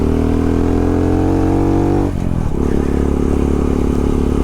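A dirt bike rides a trail on wide rural land, its engine droning loud and close, then briefly dipping during a gear shift around the middle before pulling steadily again.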